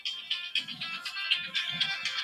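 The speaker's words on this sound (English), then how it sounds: "Somebody's phone." A phone ringtone chimes repeatedly in a home, a bright looping melody of rising notes playing on its own, moderately loud and close.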